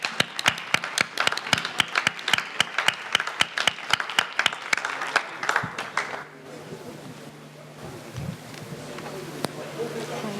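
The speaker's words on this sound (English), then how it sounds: "please give them another big round of applause" At an award ceremony honoring Estonia, a crowd gives a round of applause with sharp, rhythmic claps close by for about six seconds, then fading into room murmur and faint talk.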